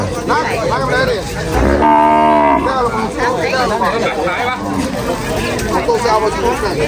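Cattle low at a busy livestock market in Sakon Nakhon, Thailand, one loud moo rising over constant crowd chatter and traders talking nearby.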